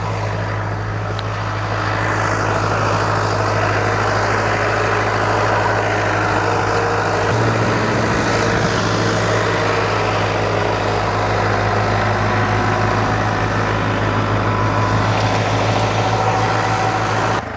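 A tractor engine running loudly while a tiller works a garden plot, a steady low rumbling drone close by that holds for the whole stretch, with only a slight shift in tone partway through and no talking.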